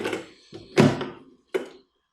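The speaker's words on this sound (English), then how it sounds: "We can go ahead and slide the makeup tank back in," Plastic makeup tank of a continuous inkjet (CIJ) printer sliding back into its bay, heard as a few close, dull thunks and bumps, the loudest in the middle, followed by silence.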